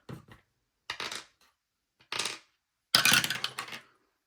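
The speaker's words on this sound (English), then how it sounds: "let's re-roll that dice real fast" Dice rolled during a game of chance, four separate bursts of clattering rattles with silent gaps between them, the last one loudest and longest.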